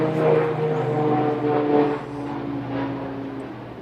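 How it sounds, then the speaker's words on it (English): Vintage World War II aircraft passing overhead near the Air Force Academy in Colorado Springs, a droning propeller engine with steady humming tones that swells and then fades as it flies by. "This time it is vintage World War II aircraft."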